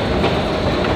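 A Paris metro train runs with a steady, loud rumble and rapid rail clatter that fills the whole moment, with no voices.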